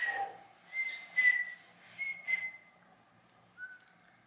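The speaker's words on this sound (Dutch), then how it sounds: "Ze is aan het fluiten." A woman whistles in short tuneful bursts, several separate phrases with pauses between, fairly soft and close, with no one talking over it.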